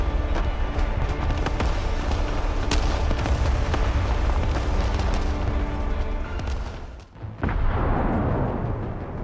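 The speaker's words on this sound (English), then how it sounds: "Where are all these missiles coming from?" Missile explosions and artillery fire from the Broken Arrow war game roll in as a dense, continuous barrage of booms and blasts, loud and sustained, with a brief lull near the end before the rumble resumes.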